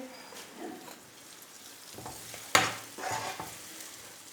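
Radish chutney cooks over a very low flame with a soft, faint sizzle, with occasional scraping stirs in the pan and one sharp clink of a utensil.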